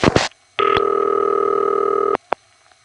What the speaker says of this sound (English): Here's the Kruger ring on a normal line.